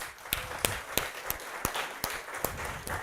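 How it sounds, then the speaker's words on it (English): Audience applause at a conference breaks out in a short burst, sharp scattered claps repeating at an irregular rhythm and fairly faint, with no talking over them. "Give him a big clap"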